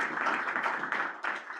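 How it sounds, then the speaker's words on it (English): Applause at a food web planning meeting in Southeast Iowa: a steady patter of many hands clapping together in a room, fairly faint and continuous for a short stretch. "How about a round of applause for him?"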